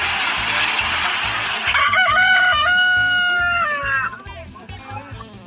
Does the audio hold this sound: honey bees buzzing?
no